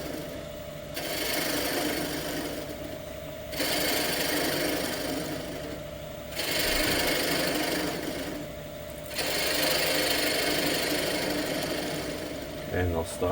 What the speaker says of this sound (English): I'll use a ball gouge for the beginning here